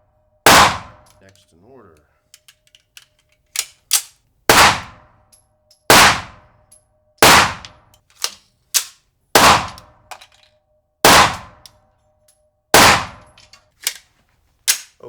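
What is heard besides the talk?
gunshots fired at a target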